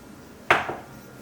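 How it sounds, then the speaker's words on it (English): A single short scraping clink of a utensil against a pot while stirring a homemade soap mixture with coconut oil, close and fairly quiet. "Now I'm going to give it a stir"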